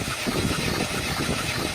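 A Mercedes-Benz M276 V6 with a misfire fault and rough idle runs at a steady, close engine hum, low and continuous with a faint uneven pulse throughout.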